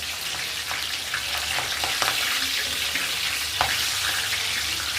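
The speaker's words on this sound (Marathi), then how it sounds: "छान भरपूर तेल असल्यामुळं लगेच ती मिरची फ्राय होणार आहे" Green chilies frying in plenty of hot oil for poha chivda, a steady close sizzle with a few sharp pops and crackles throughout, no voices.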